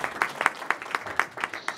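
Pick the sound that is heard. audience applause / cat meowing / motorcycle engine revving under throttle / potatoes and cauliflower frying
audience applause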